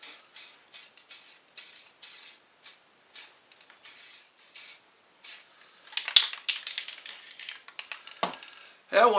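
Spray paint can hissing a light coat onto metal pipes for DIY shelves, about a dozen short close bursts in a quick rhythm, followed by scattered handling and clinking noises.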